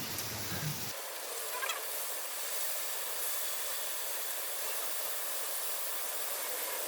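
Pork belly sizzling on a grill just after being flipped; a loud burst of frying at first, then a steady, bright, close hiss and crackle that continues evenly.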